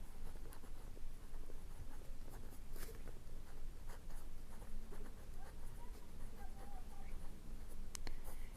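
Pen scratching on paper while prime factors are written out by hand, a close, continuous scribble of short strokes and taps, fairly quiet with no talk.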